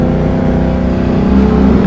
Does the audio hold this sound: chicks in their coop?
no